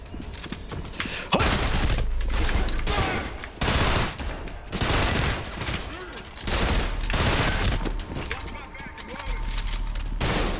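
Rapid video game gunfire, bursts of shots and automatic fire in repeated volleys separated by short pauses, loud and close, with a player talking excitedly over it.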